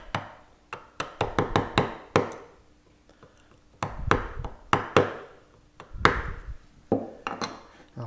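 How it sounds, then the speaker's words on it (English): A chisel and gouge are worked by hand into wood while carving Gothic tracery, giving sharp irregular taps and mallet knocks in quick clusters separated by brief quiet gaps, close and clear. "I'll switch back and forth between the chisel and the gouge until that chip pops free."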